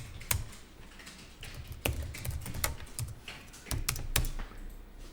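Someone types accounting entries on a computer keyboard, with irregular clusters of close, crisp key clicks and occasional heavier strikes like the enter key, steady and moderately loud in a quiet room.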